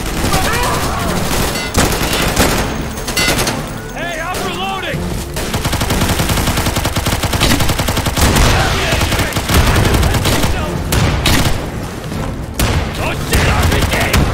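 Sustained gunfire in the video game Insurgency during a co-op counterattack, with rapid automatic bursts, scattered single shots and heavy booms, loud and nearly continuous, with brief voice chatter mixed in.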